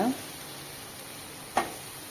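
Chopped manathakkali greens being stirred into a frying pan for a coconut milk kootu, a soft steady sizzle with a brief scrape at the start and another sharp stir partway through.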